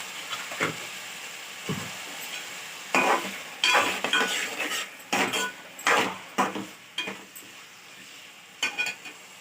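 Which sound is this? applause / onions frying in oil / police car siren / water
onions frying in oil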